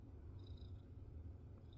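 A cat purrs close up, a soft, steady low rumble pulsing evenly throughout the short stretch.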